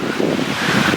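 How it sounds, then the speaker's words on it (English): Wind gusting outdoors on a hiking trail in a conservation area in Ontario, buffeting the microphone with low rumbling surges, loud and close throughout. "it's really windy out"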